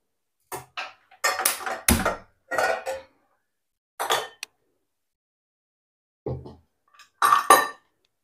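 Cooked millet noodles being drained in a metal pot, heard as a series of separate clanks, scrapes and clinks of the pot and utensils, spaced out, with quiet gaps in between.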